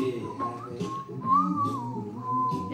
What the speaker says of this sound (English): I didn't realize I could whistle so good.